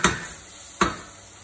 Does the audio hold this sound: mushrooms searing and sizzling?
yes